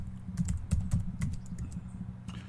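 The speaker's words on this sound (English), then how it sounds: "it would help if I could type it" Keys clack on a computer keyboard at an old MS-DOS 6.22 machine, a close, uneven flurry of taps and clicks that thins out toward the end.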